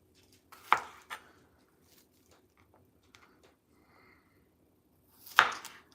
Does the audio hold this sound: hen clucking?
no